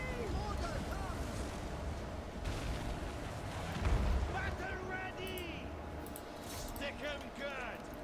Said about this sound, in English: Okay, fire on them. Keep firing.